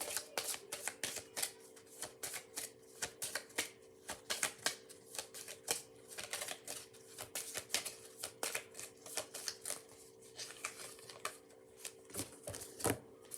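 Playing cards being shuffled and riffled repeatedly, rapid crisp flicks and snaps in uneven bursts over a faint steady hum.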